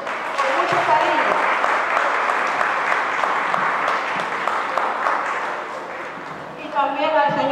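Applause from an audience at a church community event, steady continuous clapping with voices mixed in, ending as a voice speaks over it.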